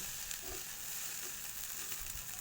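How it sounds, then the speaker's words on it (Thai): Food is stir-fried in a pan after the heat is turned off, a soft, even sizzle with light stirring scrapes, quiet and without talk. "เราก็ปิดไฟแล้วนะคะ ปิดไฟ ผัดไปสักพัก"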